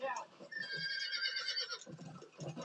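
A horse whinnies in Red Dead Redemption on PS3, a drawn-out, high, wavering neigh lasting about a second amid game sounds, with someone talking around it.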